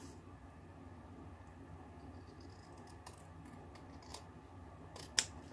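Scissors trimming a small crochet tab, a few faint, quiet snips and clicks spaced apart over a low room hush, with one sharper cut near the end.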